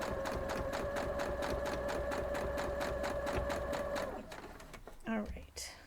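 A sewing machine runs steadily, stitching a seam on a diamond star quilt block, then stops about four seconds in, leaving brief handling noises and a short voice.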